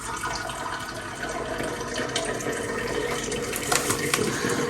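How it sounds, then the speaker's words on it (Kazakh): Water runs steadily, like a tap left on, a continuous rushing wash with no voices, close by. "Мына судың дауысы бар ғой,"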